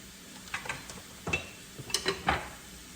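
Food scooped out of a cast iron pan of sausage gravy, with a handful of short scraping clinks and soft scrapes of a utensil against the pan, spaced irregularly and fairly quiet, with no talking.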